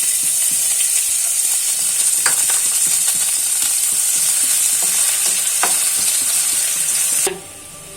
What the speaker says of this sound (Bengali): আর এখানে দিচ্ছি রসুন কুচি।